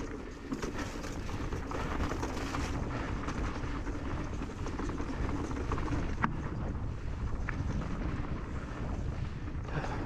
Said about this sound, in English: the wind's stopping you.